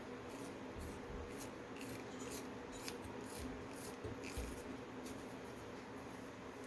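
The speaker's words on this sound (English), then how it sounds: "I need a sharper one, so I'm going to sharpen it a hair." A blunt colored pencil is sharpened slightly while drawing a rose petal, giving faint, close, soft rasping strokes repeated in quick succession over a quiet background.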